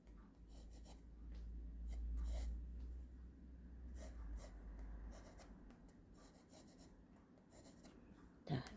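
Graphite pencil moves across drawing paper while an apple is sketched, giving soft, close scratchy strokes in irregular bursts with brief pauses between them.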